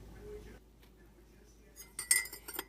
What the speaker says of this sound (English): I'm going to stir this well until the sea salt is completely dissolved.